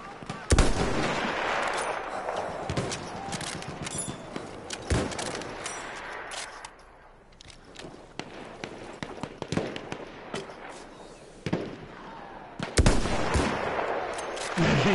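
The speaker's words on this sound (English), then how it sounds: "Yeah, I see that shooting." Gunfire in the World War I shooter Battlefield 1: close, loud shots and short automatic bursts crack repeatedly across the whole stretch, with brief lulls between volleys.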